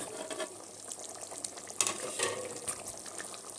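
Frozen okra dropped into thickened tomato sauce in a cooking pot, giving a steady crackling sizzle with a few sharper bursts as the pieces hit the hot sauce, close and without talk.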